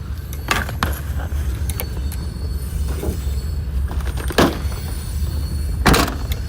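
A train passes on the Trans-Siberian Railroad beside a lake. A steady rumble runs throughout, with sharp clanks and squeaks as the cars pass by, loudest near 4.4 and 6 seconds.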